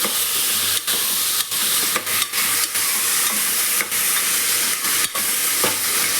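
Steady sizzling and hissing of vegetables frying in hot oil for sambar, with occasional stirring clinks and scrapes breaking the continuous crackle.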